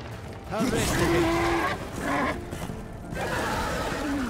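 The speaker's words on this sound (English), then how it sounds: "There definitely also seems to be a lot more places you can use your horse in this." Horse neighing in the video game Darksiders 2: several loud whinnies with rising and falling cries, repeated over a few seconds among ambient game sounds.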